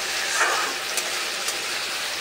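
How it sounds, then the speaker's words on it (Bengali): Water poured into a pan of sautéed potatoes with cumin paste and green chilies raises a soft, steady sizzling hiss with faint bubbling crackles, fairly quiet and with no voices. "জল দিয়ে দেব।"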